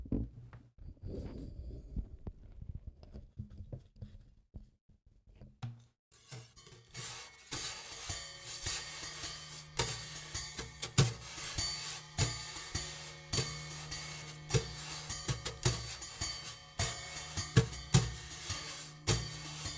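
Wire brushes swish and tap on a snare drum in a steady jazz rhythm after a quiet opening of a few soft taps, with close, crisp sweeps and light accents.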